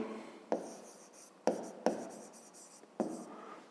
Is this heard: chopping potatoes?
no